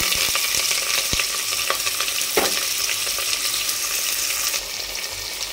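Sliced onion frying in hot oil with whole garam masala and dried red chilies, giving a steady, close, loud sizzle with a few sharp stirring clicks and scrapes and no voices.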